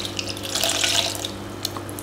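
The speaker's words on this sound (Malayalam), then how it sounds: "അപ്പം ഇതിലേക്ക് ഞാൻ വെള്ളം കൂടെ ഒഴിച്ച് കൊടുക്കുകയാണ്" Water pours from a tap into soaked rice and moong dal being readied for grinding into idli batter, a loud continuous gushing splash close by with no talking.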